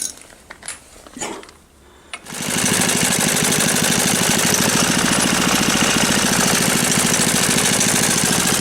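A small engine on full choke after a carburettor diaphragm replacement starts after a few knocks and then runs steadily and loudly at a fast, buzzing rhythm close by, with no talk over it.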